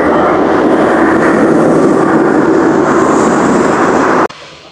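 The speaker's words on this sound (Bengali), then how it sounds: "এটা হচ্ছে ট্রেনের পাওয়ার কার।" A train's power car generating electricity for the whole train gives a loud, steady, close engine drone that cuts off abruptly near the end.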